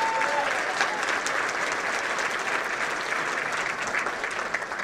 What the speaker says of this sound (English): Please round of applause for her as well.